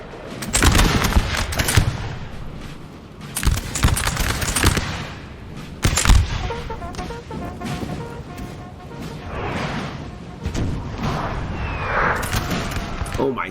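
Infantry musket volleys crackle in the Napoleon Total War video game during a 4v4 battle, dense bursts of rattling gunfire with a few sharper booming surges, heard under a talking player.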